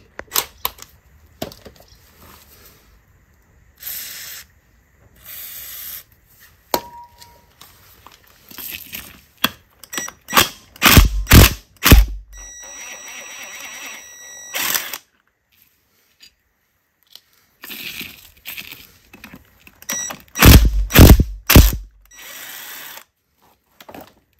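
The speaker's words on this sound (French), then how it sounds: "Allez, je vais démonter ces boulons là et on va accéder à l'autre partie." Bolts come off a Mini Cooper rally car in short, loud bursts from a power tool. Rapid rattling runs of impact hammering are separated by quiet clicks, handling noises and pauses.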